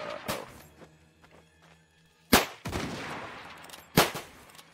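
Gunfire in the Zulu Wars video game: a few loud, sharp shots spaced well apart, with a low background hum and a faint tonal drone between them.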